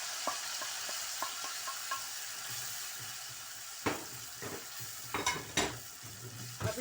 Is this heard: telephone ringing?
no